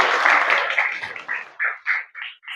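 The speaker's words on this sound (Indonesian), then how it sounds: "kasih tepuk tangan dulu untuk kalian semua" A classroom of students applauds together, starting as a dense burst of clapping that thins into a few scattered, separate claps before fading.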